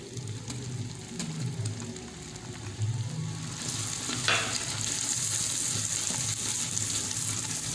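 Garlic ginger paste and garam masala spices fry in a pan for beef korma, a steady close sizzle with stirring scrapes, briefly louder as the mixture hits the hot oil.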